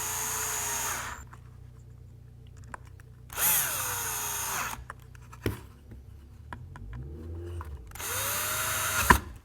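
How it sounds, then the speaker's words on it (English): A power drill drives screws into the base of an electric planer in three separate bursts of high whirring, each a few seconds long, with quiet clicks and handling noises between. "And then I'm going to use my right hand to drive the screws."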